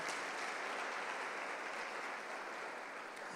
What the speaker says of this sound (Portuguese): Você pode aplaudir o Senhor Jesus por essa promessa?